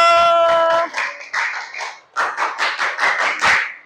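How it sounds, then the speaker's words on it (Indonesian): A group in a classroom claps in a rhythmic patterned cheer, bursts of close hand claps in quick sets after a brief tonal sound, with voices mixed in. "tepuk tangan buat kelompok suhu"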